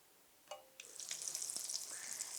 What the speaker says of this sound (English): my squash down in a single layer into the hot olive oil. I'm just going to sear it on each side